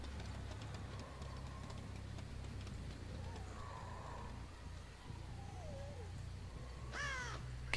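Crows caw in the dark horror game Dead by Daylight, a few harsh calls over a low steady ambient drone, with one louder, nearer caw at the end.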